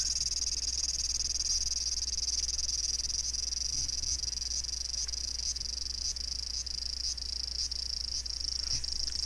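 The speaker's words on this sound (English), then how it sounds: "The cicadas are giving their delightful song as loud as ever." Loud summer cicadas sing in a continuous high, shrill drone with faint pulsing ticks, steady and dense throughout over a low hum, with no talking.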